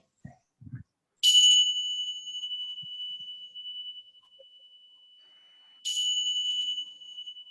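Two struck bells ring out to close a yoga session over Zoom, each a bright clear strike with a long, slowly fading sustained tone, the second coming several seconds after the first, in an otherwise quiet room.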